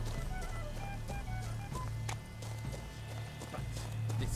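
In The Witcher 3: Blood and Wine, a horse's hooves clip-clop in a steady walking rhythm, fairly close, over a low ambient game soundscape.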